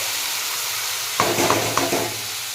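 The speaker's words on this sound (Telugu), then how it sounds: "ఇప్పుడైతే చక్కటి టమాటాలు వేసేస్తున్నాం" Tomatoes dropped into a pan of frying onions for pasta sauce, a quiet background sizzle that jumps to a louder crackle on impact, followed by a few sharp spoon taps and stirring scrapes.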